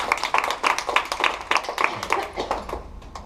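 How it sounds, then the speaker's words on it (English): A real estate sales team claps at a training meeting, producing a short burst of brisk, uneven hand claps from a modest group in a room, steady for a few seconds. "Give yourself a round of applause"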